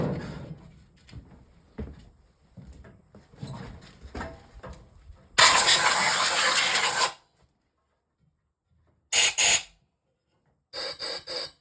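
Compressed air blasts across a 1914cc VW/Porsche magnesium engine case: a loud hissing rush of almost two seconds, then two shorter bursts, following quieter handling and scraping noises from the parts.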